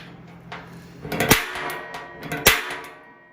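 Two sharp metallic strikes ring out as a center punch is hammered into a hollow steel drum for a smoker build, with lighter taps and clatter around them at close range.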